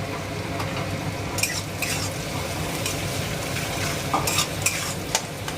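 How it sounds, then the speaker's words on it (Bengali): Onions stir-fried in a pan with a little salt sizzle steadily up close, with repeated scraping strokes of a spatula against the metal throughout, no talk. "এইবার পেঁয়াজটা ভাজা ভাজা হচ্ছে, আর একটু ভাজা ভাজা হবে"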